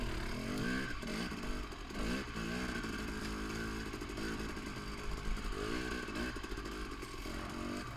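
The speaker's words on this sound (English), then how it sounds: "I'm really enjoying the lug of this two-stroke engine" A 2018 Husqvarna TX 300 two-stroke dirt bike being ridden, its engine buzzing and revving continuously and up close with rising and falling throttle, plus some clatter from the ride.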